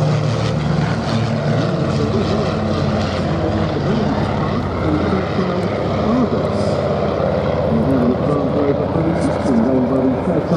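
Vintage de Havilland Dragon Rapide biplane leading a formation at the Duxford VE Day anniversary air show, a steady droning propeller engine roar holding loud throughout, with a commentator talking over it.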